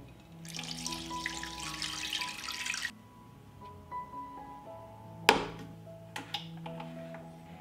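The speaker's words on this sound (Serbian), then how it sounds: "I nalit ću vodu." Water streams steadily into a pot for boiling chicken fillet for a couple of seconds, then stops, followed by a few faint knocks and clinks against a quiet background tune.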